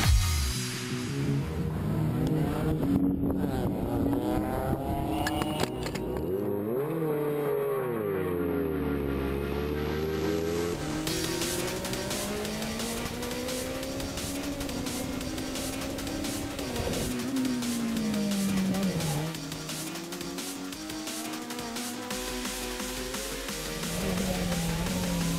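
A VW Polo rally car drives on dirt, its engine note rising and falling through revs and gear changes, loud and close with a steady broadband rumble throughout.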